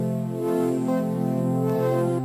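A sustained synthesizer tone holds a rich, buzzy chord with bright harmonics, steady and fairly loud throughout, with no voices.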